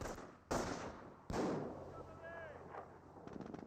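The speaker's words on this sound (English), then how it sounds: "MG42 now sitting on up, sniper firing away, gets a good shot there onto the Scope Arc squad" Gunfire from an MG42 machine gun and a sniper rifle in the World War II strategy game Company of Heroes: two sharp loud shots open the clip, and a steady rumble of battle noise continues beneath them.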